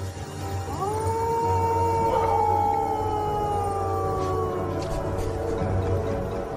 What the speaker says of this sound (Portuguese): E este cão selvagem não está sozinho.